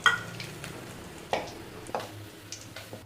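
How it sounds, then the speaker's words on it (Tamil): Chicken 65 pieces frying in hot oil, giving a faint, steady sizzle with a few soft clinks and stirring knocks scattered through it. "இதே மாதிரி மீத உள்ள சிக்கனையும் நம்ம பொரிச்சு எடுத்துக்கலாம்"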